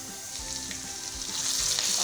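Finely chopped green chillies and garlic fry in a pan with a steady, close hiss and crackle, stirred now and then, with no voices.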